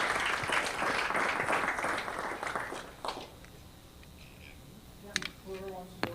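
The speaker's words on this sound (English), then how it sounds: "Let's do a round of applause" Applause at an Austin AI Tinkerers community demo meetup, a dense burst of clapping for about three seconds that thins out, followed by a few scattered claps and brief voices near the end.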